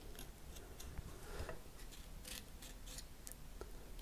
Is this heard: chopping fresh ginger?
no